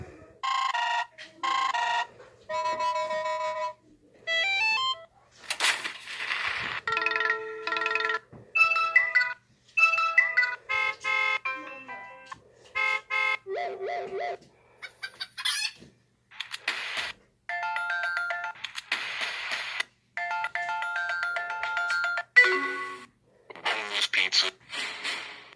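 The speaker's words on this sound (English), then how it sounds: "I'm going to be reviewing the ringtones and notifications on the Moto G4e." A series of Motorola Moto G4e ringtones and notification sounds, bright synthetic melodic tones and chimes played one after another with brief gaps, each clip short and distinct, with no talking over them.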